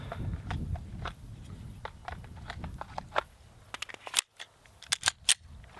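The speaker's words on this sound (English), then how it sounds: "now you're just gonna load the gun" Rapid metallic clicks and snaps of a gun being loaded at a shooting range, close and crisp, in an irregular run that ends in a few sharper clacks.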